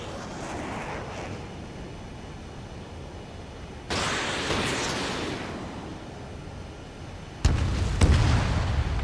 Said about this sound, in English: Enemy bomber confirmed down.